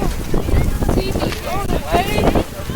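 Gusty wind at an outdoor Tough Mudder obstacle race campsite buffets the microphone, making loud, uneven rumbling surges throughout.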